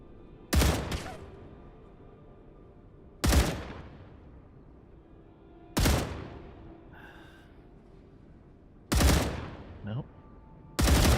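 Sharp sniper-style rifle shots in the sci-fi game StarRupture, five loud cracks spaced a few seconds apart, each with a decaying echo tail, over a faint background hum.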